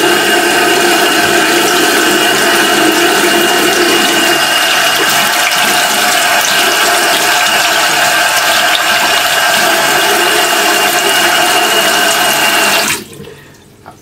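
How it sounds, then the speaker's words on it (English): Hands are washed with hemp soap and a scrubbing brush under steady running tap water, a continuous loud splashing flow that stops abruptly near the end. "The baskets are notoriously germy. So I definitely need to do a hand wash,"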